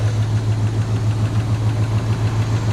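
A 350 small block Chevy engine fitted with an LS alternator runs at a steady idle. It makes a loud, continuous low hum with a constant rumble and no breaks.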